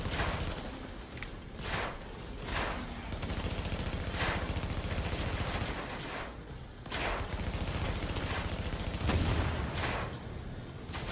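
Sustained automatic gunfire in The Division video game, dense and loud throughout, with rapid shots layered from several weapons and only brief lulls.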